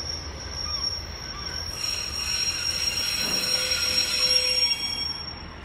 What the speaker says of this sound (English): coming in now on platform 1 is the 1746 service to Exmouth